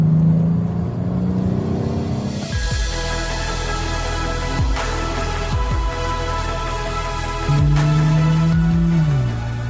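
A BMW M8 or 840i Gran Coupé engine in Sport Plus mode climbs and revs loudly, shifting through gears with sharp drops and rising pitch, close and powerful throughout.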